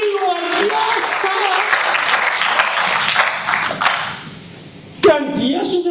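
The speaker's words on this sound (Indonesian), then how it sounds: "Tepuk-tepuk, ini luar biasa." A church congregation applauds during a sermon, a loud burst of clapping with voices and cheers that dies away, followed by a voice speaking again.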